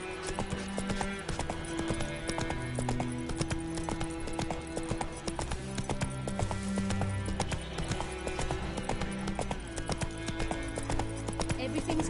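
Roach, Geralt's horse in The Witcher 3, gallops with steady clip-clop hoofbeats running continuously through the scene, mixed with game music and a voice speaking over it.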